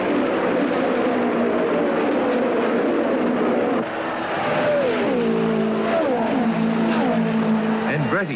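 A 1976 Indianapolis 500 race car roars loudly down the main straightaway, its engine whine sliding downward in pitch as the cars pass one after another, while a commentator talks over the noise.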